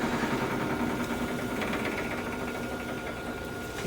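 A 1920-30 Weedon AC model steam engine running on gel fuel chuffs with a fast, steady mechanical rattle and hum, close and moderately loud with no talk.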